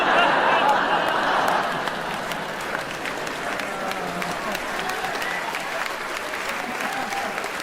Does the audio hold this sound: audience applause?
yes